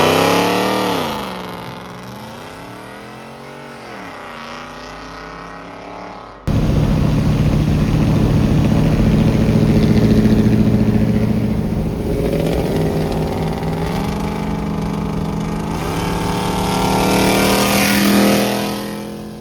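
A supercharged 2011 Ford F-150 with the 5.0 engine idles with a rising and falling tone, then abruptly roars louder and holds a strong, close rumble, revving up and easing off several times.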